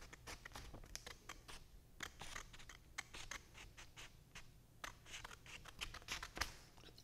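Scissors cutting printed sublimation paper for large Epson 2720 prints, a quiet series of crisp snips and paper scratching close up, with no talking.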